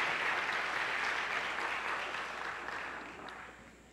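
Audience applauding at a congress as recognitions are handed to each speaker, a steady clatter of clapping that slowly fades over the four seconds.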